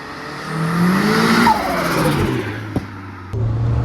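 A car engine revs and climbs in pitch while driving, then settles to a steady drone with a couple of brief knocks.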